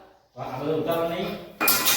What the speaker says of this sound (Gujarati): હવે મારો વારો આવ્યો વાસણ ઉતારવાનો.